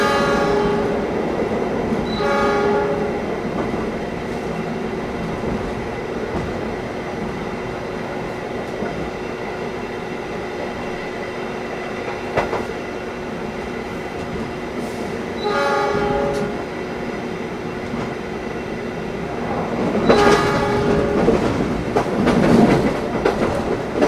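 A Brawijaya passenger train in Indonesia, heard from on board at night: a steady rolling rumble with clickety-clack rail noise, broken by several long, booming horn blasts spread across the run.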